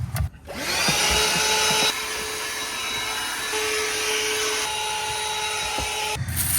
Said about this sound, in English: I got a vacuum cleaner.